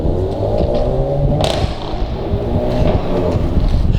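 A Volkswagen Golf Mk7.5 GTI fitted with a Remus exhaust burbles and crackles through a gear change, its engine note loud and close, with a sharp pop about halfway through.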